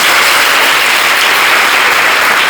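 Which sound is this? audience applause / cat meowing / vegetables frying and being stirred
audience applause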